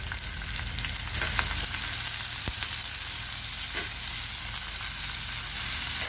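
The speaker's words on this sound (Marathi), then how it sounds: "तेलामध्ये टाकणार आहे हिरवी मिरची" Green chillies fry in a little oil in a pan, a steady broadband sizzle that runs unbroken for the whole stretch with a few faint stirring clicks, close and fairly loud, no voices.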